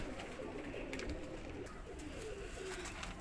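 Pigeons coo in low, soft repeated calls, fairly close, over a steady background hum.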